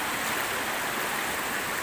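A river flowing across a landslide-scarred crossing, a steady broadband rush of water with no pauses, loud and close.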